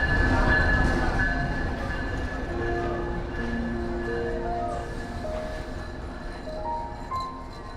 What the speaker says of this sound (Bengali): এইমাত্র আট নম্বর প্ল্যাটফর্মে এসে পৌঁছালো রূপসী বাংলা